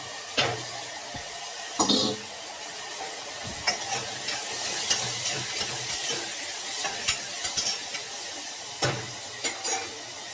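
Peas dropped into a pan of potato kurma, with soft stirring scrapes and a light sizzle, punctuated by several brief clinks of a spoon against the pan.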